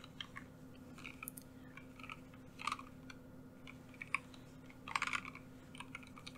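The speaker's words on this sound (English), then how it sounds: "this here is the Keychron K8 Pro, and it has black switches underneath here" Quiet, close typing on a Keychron K8 Pro mechanical keyboard with black switches, soft irregular key clicks with a few sharper, louder keystrokes, alone with no talking.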